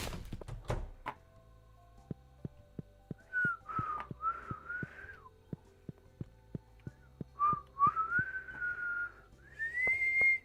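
A person whistles several short, wavering rising and falling notes over a quiet Stardew Valley game scene, with regular soft clicking thunks ticking in the background.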